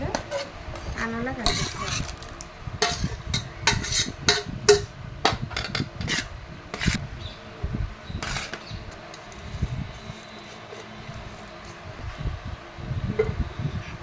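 Tamarind paste is stirred into cooked rice for pulihora, with a metal spoon scraping and clinking against a steel vessel in irregular bursts over a low fan hum.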